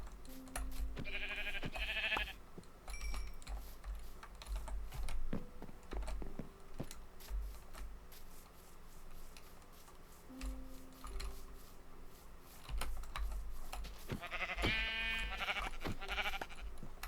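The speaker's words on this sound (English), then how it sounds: "Now we're starting to see some more sheep." Sheep bleat in a blocky building game, a few separate cries near the start, middle and end, set against faint tapping like keys being pressed.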